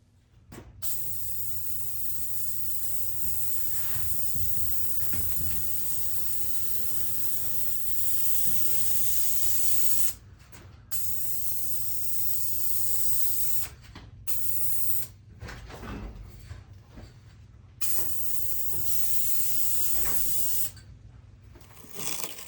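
Clear coat sprays from a paint gun onto a Mustang trunk channel during rust repair, a steady close hiss in long bursts broken by short pauses.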